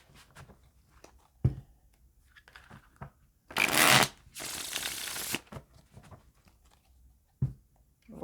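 A deck of cards being shuffled during a tarot-style card reading, with a quick riffle burst standing out between soft handling taps and quiet pauses, close and fairly faint.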